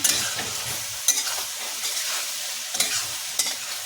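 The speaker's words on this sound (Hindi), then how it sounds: "तेज आंच करके इसे तेज कर दिया है गैस। इसको थोड़ा सा चला देंगे।" Okra (bhindi masala) stirred in a pan frying over a high gas flame: steady broadband sizzle with a few sharp spoon scrapes and clinks, close and fairly loud, no voices.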